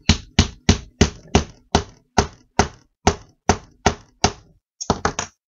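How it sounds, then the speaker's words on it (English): About a dozen sharp, loud hammer blows strike a mouse trap arm to flatten it, evenly spaced at first and then ending in a quick cluster of three. "Yep, we can hammer that down."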